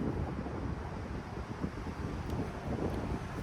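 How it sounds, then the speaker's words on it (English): Wind buffets an outdoor microphone in a steady, rumbling low roar that continues throughout, with no talking. "Like it's a little bit windy."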